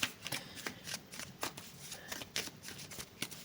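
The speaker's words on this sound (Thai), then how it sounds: "เอ้าไพ่ ไอสับไพ่นะทุกคน" Steady, papery riffling of a tarot deck being shuffled, a rapid train of crisp flicks and slaps repeating in quick, even bursts close to the listener.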